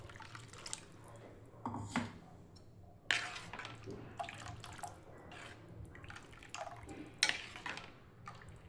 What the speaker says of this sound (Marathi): अजून पाणी घालते.